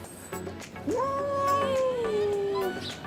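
Outdoor cats, a mother named Zetina and her daughter, are heard as one long, clear, drawn-out meow that slides downward, close and fairly loud over quiet background.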